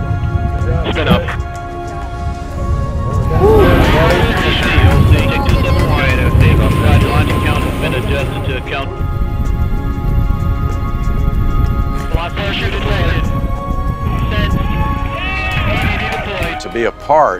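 A Mars test vehicle drops and spins up, giving a loud, steady mechanical rush and whir that runs through the whole stretch, with voices talking over it now and then.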